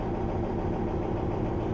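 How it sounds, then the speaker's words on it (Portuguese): A 1975 Volkswagen Brasília engine idles steadily and evenly, a continuous low rumble close by with no talk over it. "para dar para perceber o barulho, como está mais uniforme do motor."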